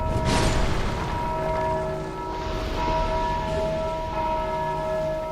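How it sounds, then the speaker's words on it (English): A bell struck in Dark Souls 2 Scholar of the First Sin rings out with a sharp clang followed by a long, steady metallic hum of layered tones that lingers and swells again, loud and alone. "Oh, damn, I hit the bell."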